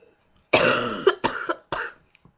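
A close, loud coughing fit: one long rasping cough followed by two shorter hacking coughs in quick succession, then quiet, with no talking.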